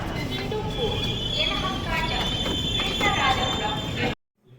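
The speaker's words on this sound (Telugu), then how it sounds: "మన ట్రైన్ ఒక బ్యూటిఫుల్ కర్వ్ నుంచి అయితే మళ్ళీ పాస్ అవుతుంది" The Kongu Superfast Express runs through a curve with a continuous rumbling roll, wheel noise and a thin high squeal from the rails, heard from inside as a voice talks, then cutting off abruptly near the end.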